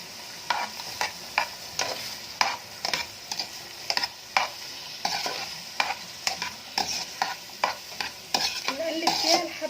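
Onions fry in oil while a spoon stirs them, making rhythmic scraping taps over a soft, steady sizzle, close by and with no one speaking.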